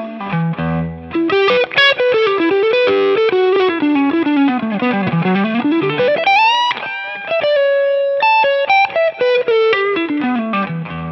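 An electric guitar run through distortion and chorus-like effects plays a continuous E Dorian line. Notes climb, fall and bend across the range, loud and sustained, with a short final phrase and no talking.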